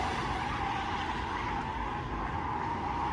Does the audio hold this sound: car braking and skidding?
yes